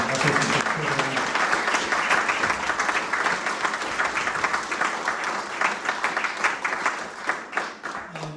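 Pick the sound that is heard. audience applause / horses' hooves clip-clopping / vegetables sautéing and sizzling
audience applause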